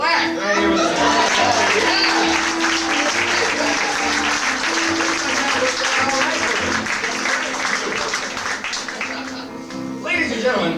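Sustained audience applause at a beauty pageant, a dense steady wash of many hands clapping for several seconds, with music and a voice beneath it.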